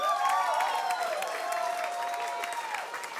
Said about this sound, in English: So a big round of applause for Labour MP for Te Tai Hauru, Adrian Rurawhe.